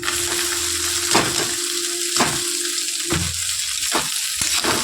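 Pasta fries in oil in a pan with a loud, continuous sizzle, broken by several sharp bursts of stirring or tossing spaced about a second apart.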